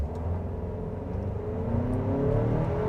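A 2024 GMC Acadia Denali, a turbocharged family SUV with an 8-speed automatic, accelerates hard; the engine note climbs steadily and grows louder, heard from inside the cabin with no talking.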